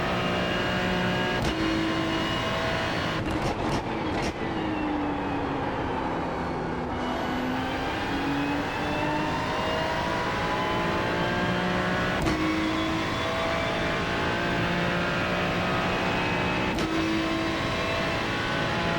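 Race car on a fast, pushed lap at Monza, its engine droning loud and continuous with rising and falling pitch through gear changes and a few sharp shift breaks, no voices.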